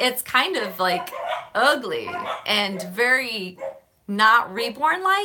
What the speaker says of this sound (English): Sorry for the barking in the background, guys.